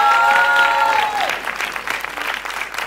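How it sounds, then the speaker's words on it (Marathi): Audience at a film trailer launch event bursting into loud applause, dense clapping from a crowd that continues over a fading held musical note at the start. "त्यामुळे जोरदार टाळ्या झाल्या पाहिजेत."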